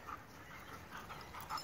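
A dog pants softly and steadily in quick breaths, faint and close against a hissy room background, with a slight whimpering edge.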